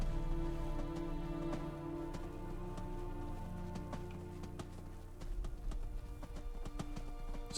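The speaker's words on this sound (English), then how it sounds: "Just elk running all over the place." Elk hooves clatter in quick irregular beats as they run past, over a steady hiss of rain, with no talking, in the video game Skyrim.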